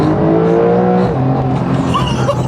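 Porsche 992 Carrera, the entry-level base model, revs hard under acceleration and then blips through a quick downshift, its flat-six loud and close throughout the short burst.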